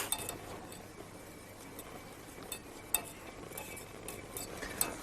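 Roux being stirred into potato soup in a pot, with soft scraping and faint clinks of a utensil against the vessel, steady and low with a couple of sharper taps.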